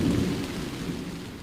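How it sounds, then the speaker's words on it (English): Thunder rumbling during a storm over a lake island, a low, close, rolling boom that fades across a brief moment, with rain-like hiss above it and no talking. "Still lots of thunder."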